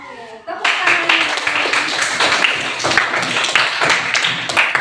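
A group in a classroom claps their hands together, a loud, close, brisk run of clapping that starts after a short pause and continues throughout, with voices mixed in.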